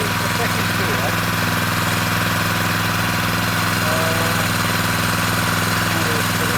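A Honda FF500 rotavator engine runs in second gear, a loud, steady mid-pitched drone with constant vibration throughout, recorded close up.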